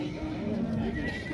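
A horse neighs at the busy Kara-Zhygach livestock market, where horses are traded. The whinny sits amid dense crowd noise, with people talking nearby and a loud, continuous background.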